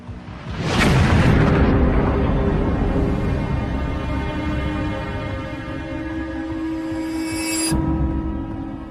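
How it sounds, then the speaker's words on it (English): A loud, rumbling explosion blasts a house apart, a sudden boom near the start swelling into a sustained roaring rumble and debris wash that lingers for several seconds, with a sharp crack near the end. "It isn't long before an explosion destroys Darnley's bedroom"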